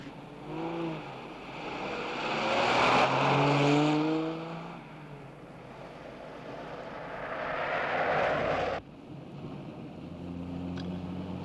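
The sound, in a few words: car driving off in pursuit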